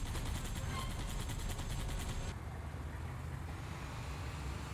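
In Cursed Halo, rapid gunfire rattles away at an enemy from a distance, a steady dense stream of shots under constant game noise, moderately loud and unbroken.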